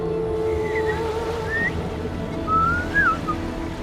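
Melodic whistled scout's call from the Lost Legends of Redwall video game, a few rising and falling whistle notes over a steady low ambient drone, no talking.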